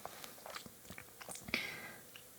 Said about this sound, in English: another thing that I wanted to do that I have not done in any of my videos yet is chew gum